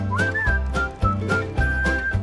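A clear, tuneful whistled melody from the 2025 Snow White film sits over a rhythmic musical backing, with short sustained whistle notes repeating across roughly two seconds, bright and close.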